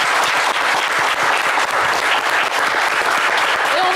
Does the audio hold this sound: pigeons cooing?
no